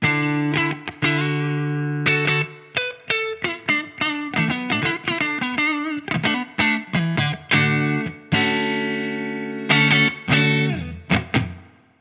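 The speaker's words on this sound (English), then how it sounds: "we get a very clean, very high headroom sound like this." Clean electric guitar plays through a Synergy TDLX amplifier, with clear picked notes and ringing chords in a lively, bright, high-headroom pattern.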